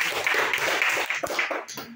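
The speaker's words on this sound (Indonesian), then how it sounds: "Tepuk tangan untuk Rani" A classroom of students claps for a classmate during a lesson on electrical circuit components, a dense burst of many hands close by for about two seconds, fading at the end.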